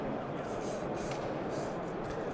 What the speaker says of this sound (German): du sprühst es ein